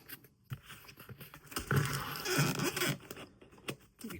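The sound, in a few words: cutting with a P38 can opener keychain tool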